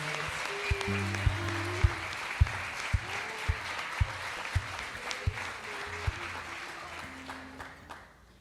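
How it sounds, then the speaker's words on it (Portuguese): A church congregation claps during a sermon, a broad wash of applause joined by regular, sharp percussive hits and sustained low tones, steady and fairly loud throughout. "Se é para aplaudir, vamos aplaudir o Senhor"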